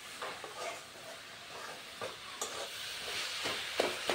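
Rice flour batter for patishapta is mixed in a bowl, a soft scraping, sloshing stir with irregular light taps of the utensil.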